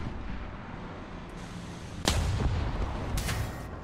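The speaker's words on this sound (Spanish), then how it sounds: "Mírale, me ha disparado." Tank cannon fire from a T-50 light tank battle in War Thunder: a sudden loud boom erupts midway through a rumbling background of engine and battle noise, followed by a second sharper blast near the end.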